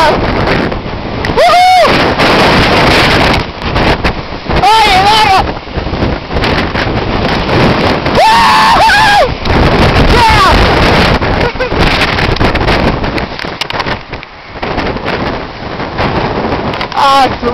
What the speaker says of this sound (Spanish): ¡Qué tal lluviazo que viene!